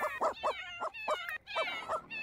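A puppy in The Sims video game whimpers in a string of about eight short, high, whiny cries in quick uneven succession, close and clear with no talk over it.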